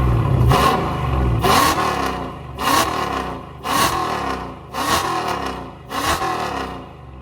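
A Dodge Scat Pack engine revs repeatedly through a newly installed loud aftermarket exhaust, with about six strong rising blips in a steady rhythm, close and loud, and no talking.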